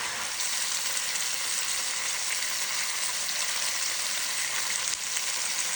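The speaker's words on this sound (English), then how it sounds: "Sear the chicken drumsticks" Chicken drumsticks sear in a hot pan, giving a loud, steady, hissing sizzle that stays even and close throughout, with no voices over it.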